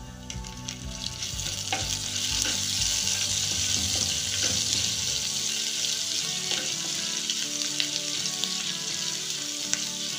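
Whole spices, bay leaf, cloves, black pepper, cinnamon, cumin and grated ginger fry in hot oil, making a loud, dense sizzle with repeated scraping and clinking from stirring that settles into steadier crackle.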